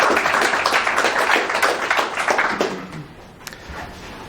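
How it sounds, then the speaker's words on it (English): Audience at an academic symposium applauding, a dense burst of clapping that thins out and fades after about three seconds, with a few scattered final claps. "So if we give him a round of applause."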